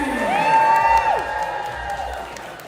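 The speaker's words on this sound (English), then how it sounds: "Let's keep those applause going for Allison McKenzie" An audience at an event in Ottawa applauds and cheers, giving a sustained wash of clapping with a loud whoop rising over the crowd, fading slightly toward the end.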